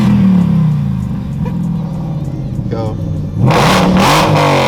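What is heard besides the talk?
Whipple supercharged Ford Mustang GT engine revving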